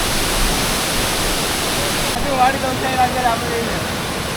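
A hidden waterfall near Jhap village in Jawhar roars as a steady, broad wash of falling water, continuous and fairly close, with a few faint voices underneath.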